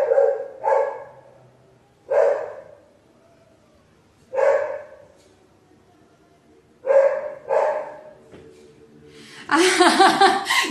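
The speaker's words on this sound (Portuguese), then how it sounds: "Aí o cachorro latindo, o correio chegando." A dog barks at home in short bursts: two quick barks, then single and paired barks spaced a couple of seconds apart. The barks are fairly close and loud. A louder, harsher burst of sound closes the sequence.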